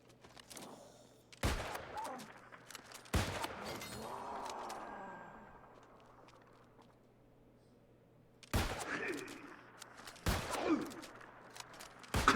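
Gunfire in the space game Star Citizen: several sharp, loud shots in separate bursts with long gaps between them, some in quick pairs, over a steady low hum.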